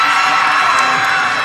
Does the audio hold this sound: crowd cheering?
yes